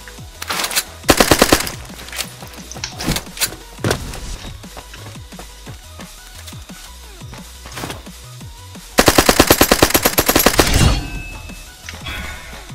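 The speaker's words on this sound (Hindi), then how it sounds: "इससे बाहर शायद गोली मार देते हैं और इसके अंदर भी गोली मार देते हैं" Rapid automatic gunfire from the battle royale video game Ark of Horizon crackles in loud bursts, with scattered single shots between them and a long sustained volley near the end, and no talking.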